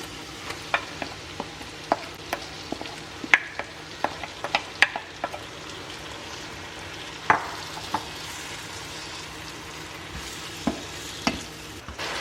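Kimchi stir-frying in butter in a pan, a steady bed of sizzle and crackle broken by sharp clicks and scrapes of a utensil stirring, close and alone without talk.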